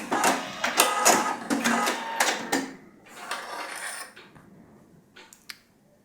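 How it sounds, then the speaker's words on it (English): A Husqvarna Topaz 25 sewing machine tying off and trimming its thread: a fast burst of close mechanical stitching clatter, then a pause and a few short whirring and clicking cutter movements ending in a sharp snip. "I'll just have the machine fix the thread in place"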